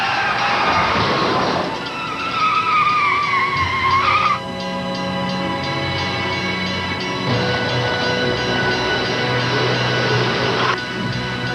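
A car braking hard and skidding to an aggressive stop at a railway crossing, a loud sustained tire squeal that bends downward, then steady engine and road noise.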